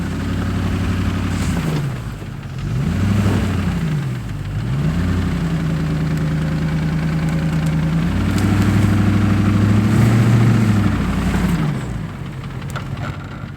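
Land Rover Discovery II engine idling in snow, a steady low rumble that rises and falls slightly in pitch as the throttle shifts, close and continuous throughout with no talking.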